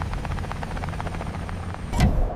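A helicopter on Mars flies in a steady, rapid rotor chop with a brief louder whoosh near the end, presented as a documentary sound effect.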